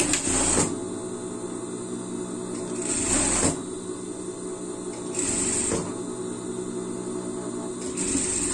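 A sewing machine stitching a false sleeve onto a costume, running steadily and fairly quietly up close with a few brief changes in tone, no voices over it.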